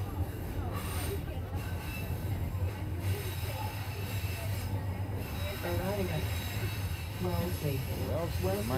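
Loud rumble of a packed Toronto subway train in motion, with wheels squealing and a constant low roar; voices murmur faintly beneath the noise.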